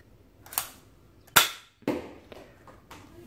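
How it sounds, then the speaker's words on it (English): A toy foam Desert Eagle blaster fires a Nerf dart, giving a sharp snapping pop followed by a couple of lighter clacks and rattles of the mechanism, close and fairly loud with no speech. "let's fire. So that's the first shot, and this is a Nerf dart."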